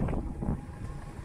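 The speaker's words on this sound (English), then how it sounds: "It's still quite windy." Strong wind buffets an outdoor microphone in Blackpool, a continuous low rumbling roar with gusty surges and no one talking.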